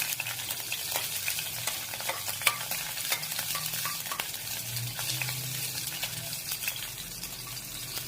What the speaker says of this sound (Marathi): आपलं तेल तापलेलं आहे आपण ग्रेव्ही करत आहोत ते मिरच्या टाकून घेते पहिल्यांदा ते आपण परतून घेऊया